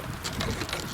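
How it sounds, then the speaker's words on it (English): Steady wind buffets the microphone with a broad, rumbling roar and gusty swells throughout the short moment. "Sorry about the wind."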